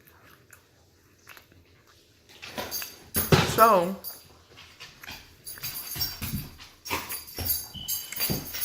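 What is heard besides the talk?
dogs fighting over a bone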